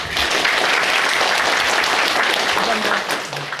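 An audience at a county event in Chungcheong, Korea, gives the county governor a sustained burst of applause. The dense clapping stays loud and even for several seconds, with faint voices beneath it.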